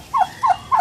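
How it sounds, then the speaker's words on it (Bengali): Royal white turkeys gobble three times in quick succession, each a loud, close, warbling burst evenly spaced with short pauses between, with no other sound around them. "এটাকে বলে রয়্যাল টার্কি, এলো হোয়াইট টার্কি, সাদা টার্কি"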